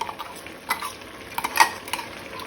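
A spoon stirs Goan lima bean usal with onion and coconut in a pot, soft scraping and light clinks over a faint simmering sizzle, close and quiet.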